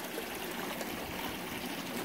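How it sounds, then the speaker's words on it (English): Water flows continuously through aquaponic fish tanks, a soft, steady trickling and streaming that is quiet and unbroken throughout. "So we've got a continuous flow through here, and we don't have any stagnant water"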